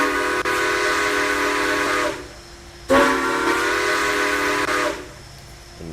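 A six-chime steam locomotive whistle in the High Iron train game sounds in two long, loud, harmonious blasts separated by a brief gap, with a soft hiss in between and no speech.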